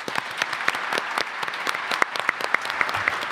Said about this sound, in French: Un tonnerre d'applaudissements pour Waked.